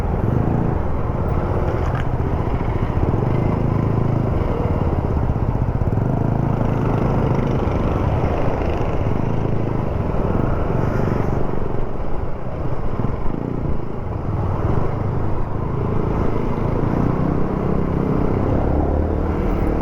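Motorcycle engines idle and rev again and again in busy road traffic, a dense continuous rumble with repeated swells of throttle, heard without talk for about twenty seconds.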